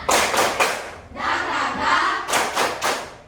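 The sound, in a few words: children doing a rhythmic clapping chant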